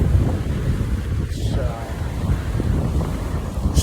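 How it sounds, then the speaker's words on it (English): Strong wind buffets the microphone on a windy day by the ocean in Cadiz, Spain, a loud continuous low rumble with gusting swells and no talk. "Very windy day here"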